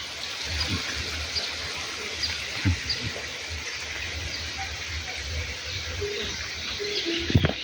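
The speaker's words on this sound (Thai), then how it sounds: "อันนี้ก็จะเป็นน้ำตกนะครับน้ำตกเล็ก" A small waterfall at a Thai temple gives off a steady, moderate wash of falling water, with scattered bird chirps and coos over it and no speech.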